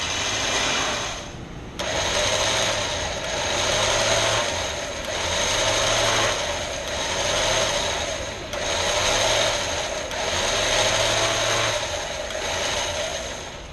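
A TuffStuff 10,500 winch winds rope onto its drum with a steady mechanical whir, loud and close, swelling and easing in a slow repeating rhythm with a low ratcheting hum underneath.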